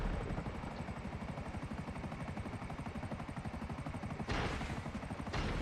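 Buzzard attack helicopter in GTA V, a steady rapid rotor chop with the engine droning underneath, held close and even throughout, with two brief louder bursts toward the end.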